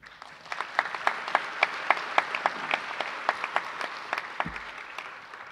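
Audience applause at a Hiroshima peace assembly against atomic and hydrogen bombs, a sustained round of many hands clapping with sharp, individually audible claps.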